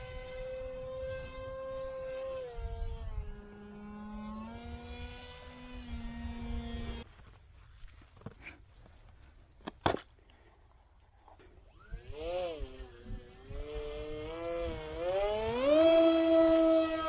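Electric motor of an HLK-31 RC seaplane, a land-and-water model, whining in flight with a harmonic tone whose pitch rises and falls as the throttle changes, then briefly quiet before surging louder and climbing in pitch.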